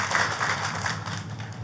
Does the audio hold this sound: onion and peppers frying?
no